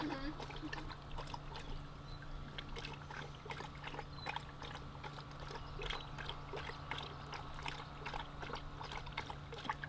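A dog lapping up water at an animal shelter adoption event, with soft repeated wet laps close by over a steady background hum and murmuring voices.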